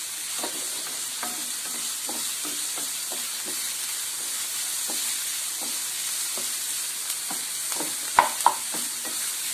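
Chopped vegetables for vegetable kurma sauté in a hot pan with a steady sizzle throughout. Regular scrapes and taps of a stirring spoon sound against the pan, and a couple of louder knocks come near the end.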